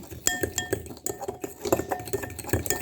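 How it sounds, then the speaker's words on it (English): Brownie batter being whisked in a bowl, with repeated clinking taps of the whisk against the bowl in an uneven rhythm, close and fairly loud. "Whisk it up."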